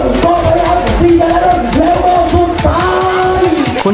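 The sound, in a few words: cheering crowd and chanting cheerleaders at Thai longboat race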